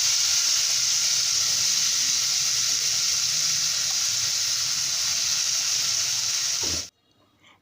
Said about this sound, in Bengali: আমি জাস্ট পাতাটা সিদ্ধ হবে আর চাপা শুটকিটা ভাজা হবে সে অবধি নাড়তে থাকবো